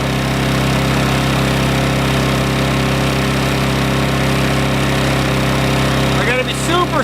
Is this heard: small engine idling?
yes